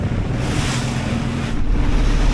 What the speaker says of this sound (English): these waves are getting really, really big now